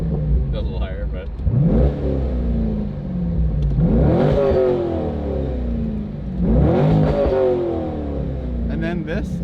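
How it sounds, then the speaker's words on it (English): A 2004 C5 Corvette with a Corsa Extreme axle-back exhaust accelerates hard, heard from inside the cabin with the windows down: three loud rising engine pulls through the gears, with a brief voice at the start. "this is what an acceleration sounds from the inside with the windows down"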